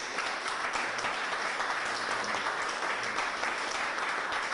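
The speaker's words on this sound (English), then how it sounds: "Put your hands together, because the more we clap" An audience claps steadily for Governor Charlie Baker at a Springfield event, a dense, continuous wash of many hands that holds evenly throughout without a break.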